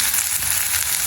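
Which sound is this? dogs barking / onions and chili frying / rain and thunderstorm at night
onions and chili frying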